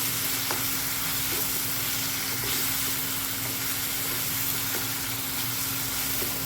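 Pork curry with chili powder frying and being stirred in a pan: a loud, steady, close sizzle runs throughout, with faint scrapes from the stirring underneath.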